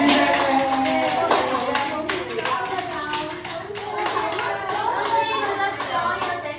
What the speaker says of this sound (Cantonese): 咁我哋俾掌聲俾自己好唔好啊？